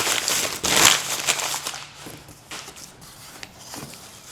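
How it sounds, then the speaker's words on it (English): Plastic packing around kit parts is unwrapped up close, giving a burst of crinkling and crackling that fades into softer intermittent rustles. "I'll have to unwrap everything and then piece it together."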